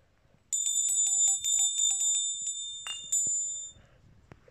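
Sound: church bell named Kacper ringing

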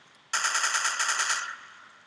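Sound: sentry gun firing in a video game (Codename Cure)

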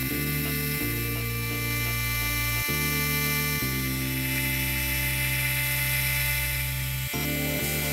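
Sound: shop-made D-bit cutter milling V grooves in metal

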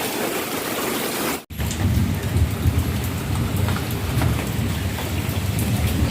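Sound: heavy rain falling

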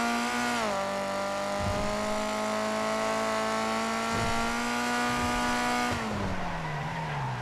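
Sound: naturally aspirated VW Brasilia engine accelerating

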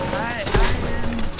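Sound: scoped SMG gunfire in Fortnite video game

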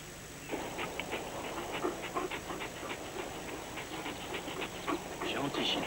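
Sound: dog whimpering and panting

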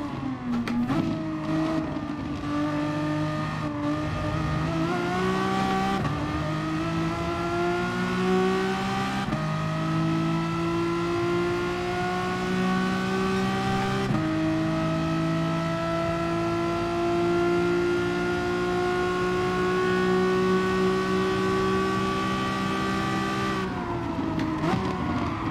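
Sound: Renault Megane Trophy race car engine in video game GT Sport

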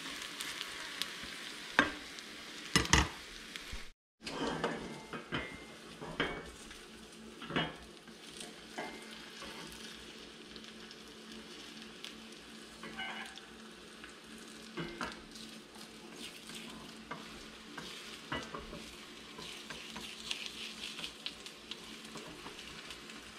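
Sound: egg mixture cooking in GreenPan 7-inch frypan

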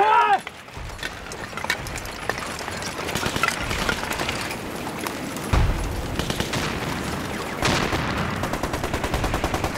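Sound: gunfire in battle

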